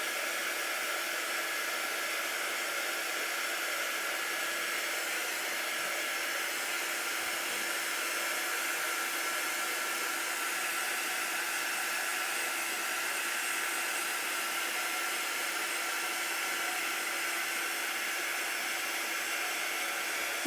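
A handheld heat tool blows a steady, even hiss of hot air to heat-set ink on a pillowcase, continuous and unbroken for the full length with no speech.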